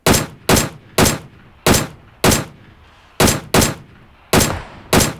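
Gunfire in a PUBG-style battle royale game, nine sharp loud single shots in uneven bursts with short decaying echoes, spaced by brief quiet gaps.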